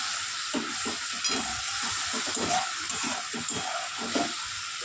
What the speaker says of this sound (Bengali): গুঁড়ো মশলাটা দিয়ে একটু কষিয়ে নেব